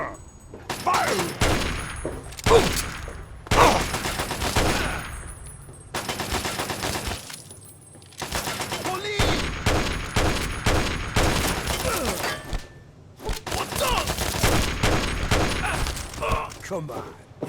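Gunfire in Fallout 3's Operation Anchorage: loud, close bursts of rapid shots that come in repeated volleys across the stretch, broken by brief gaps, with faint voices underneath.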